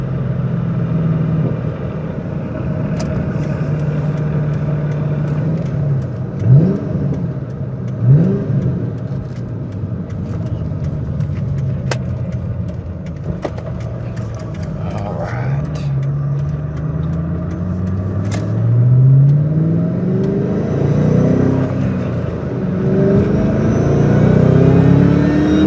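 A 2004 Ford Mustang Cobra's engine revs up and down repeatedly, close and loud, with sharp exhaust crackles and pops scattered between the rising sweeps.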